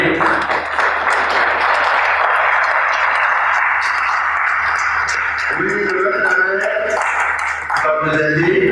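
An audience at a spiritual seminar applauds and cheers to welcome a speaker, a loud, dense wash of clapping that holds for several seconds before thinning out as a voice comes through.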